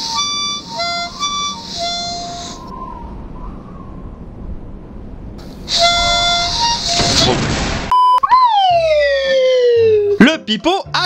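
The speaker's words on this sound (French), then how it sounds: "Le pipeau à coulisses." A slide whistle plays on its own: short steady notes, then a pause, more held tones and a breathy rush, followed by long swooping glides up and down, loud and close.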